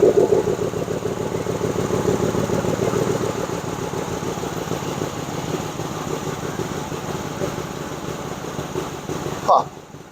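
A Lincoln Mark VIII idles steadily up close with a rapid, raspy ticking from an exhaust leak at the catalytic converter, running continuously with a brief clank near the end.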